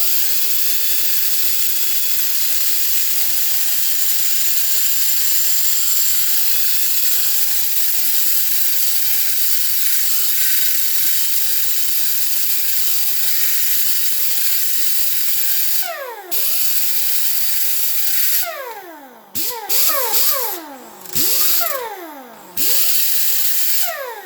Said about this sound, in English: Use the grinder.